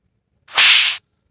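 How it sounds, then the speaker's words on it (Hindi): A single sharp, bright slap sound effect bursts out loud for about half a second, then silence on either side. "हमारी वीडियो में आवाज़ जो है थप्पड़ मारने की लग चुकी है"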